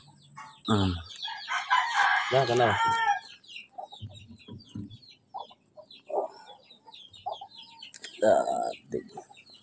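Native chickens cluck and squawk nearby in irregular bursts, mixed with a person speaking briefly and some rustling around them.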